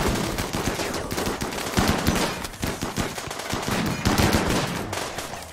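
Gunfire in the video game Rimworld rattles in rapid overlapping bursts and single shots, dense and continuous, loud and close, with no voices over it.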